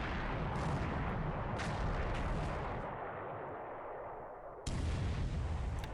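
Bomb hits exploding on ships in the War in the Pacific game: loud, booming blasts in quick succession, each sharp onset followed by a rumbling decay, heard alone without talk.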